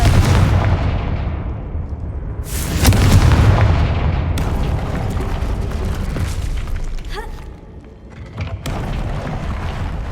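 The Confringo blasting spell going off in Hogwarts Legacy, a loud booming explosion with a rumbling tail, followed by further heavy blasts and crackling debris over about ten seconds.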